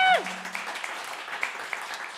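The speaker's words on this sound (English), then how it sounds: "How about one more round of applause for Nick Marlow back here?" A live audience at a bluegrass radio show applauds a performer, steady clapping that carries on through the whole moment after a short tone fades at the start.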